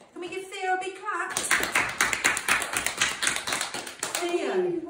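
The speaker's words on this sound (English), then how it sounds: "Can we give Theo a big clap?" A school worship assembly gives a pupil a big clap, a dense patter of many small hands that starts abruptly after a voice and runs steadily for about three seconds before speech resumes.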